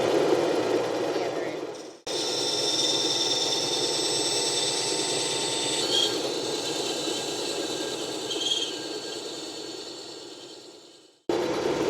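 A restored, once rusty bandsaw runs through its first cut with a loud, steady mechanical whine and hum that holds for about nine seconds. Brief quiet gaps come at the start and end, and there is no talk.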